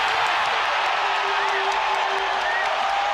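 A basketball arena crowd roars steadily after a Nikola Jokic hook shot against the Lakers, a broad sustained wash of cheering with scattered whoops and no pauses.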